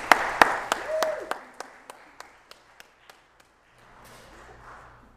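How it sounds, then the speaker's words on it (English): Scattered hand claps ring out in a church's reverberant space. A few sharp claps open, then they thin to a slowing, fading series of single claps before quiet murmuring. "Let's give them a round of applause and welcome"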